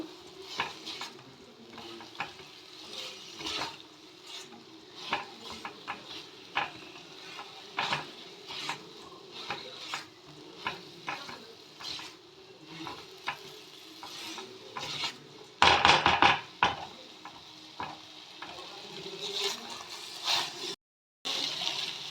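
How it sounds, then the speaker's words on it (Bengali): Mixed rice ingredients with tomato are stir-fried in a pan, with repeated scraping and clattering strokes over a low sizzle, near and steady, and a louder burst of stirring partway through. "সব একসাথে মিশিয়ে নেব, মিশিয়ে ভালো করে একটু কষিয়ে নেব।"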